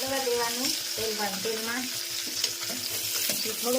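Eggplant and potatoes with mustard seeds, cumin and chilli powder fry and sizzle steadily in hot oil, close and continuous, with occasional stirring; voices sing in the background throughout.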